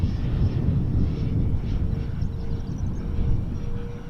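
A Dynam Gloster Meteor twin 70mm electric ducted-fan RC jet on a 4S power system flies past on a windy day, giving a continuous droning whine with heavy low wind buffeting throughout.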